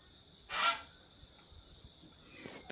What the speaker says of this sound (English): My poor goose has lost his friends.